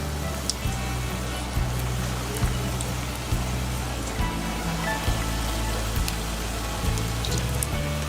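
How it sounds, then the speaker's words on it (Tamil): Potato bonda balls coated in batter fry in hot oil, giving a dense, steady sizzle dotted with small crackles and pops. It stays close and even throughout, with no talking. "நல்லா சூடு ஏறிடுச்சு. இப்போ நம்ம போண்டா போட்டுக்கலாம்."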